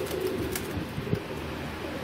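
Pigeons coo softly in low, throaty murmurs near a loft, with light rustling and faint background noise throughout.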